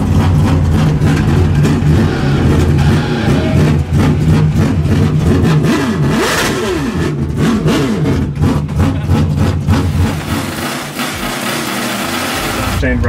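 A four-rotor Mazda RX-7 built in the style of the 787B revs hard, its loud, high rotary wail rising and falling close by, with people talking under the engine.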